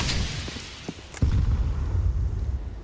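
A grenade goes off in CS:GO during a pro match on Vertigo, a single heavy boom followed by a low rumbling tail, preceded by a few faint clicks amid steady game noise.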